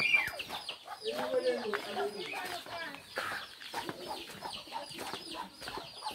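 Chickens cluck and chatter nearby in a busy, overlapping stream, with a few louder squawks standing out over the flock.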